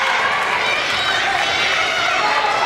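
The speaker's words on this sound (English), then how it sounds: "A good cheer from the bench as Lindsay Harrison comes up with her first 2 points of the night" Loud, dense cheering and whooping from the bench after a basket at a women's college basketball game, a continuous burst of voices filling the whole moment.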